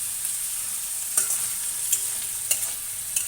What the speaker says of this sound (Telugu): అల్లం వెల్లుల్లి పేస్ట్ పచ్చివాసన పోయే వరకు వేపుకోవాలి దోరగా